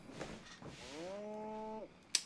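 An ox in the online game Albion gives a single drawn-out low moo lasting nearly a second, fairly faint, preceded by soft shuffling and followed by a short sharp click.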